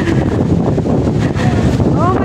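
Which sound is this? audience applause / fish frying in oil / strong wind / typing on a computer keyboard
strong wind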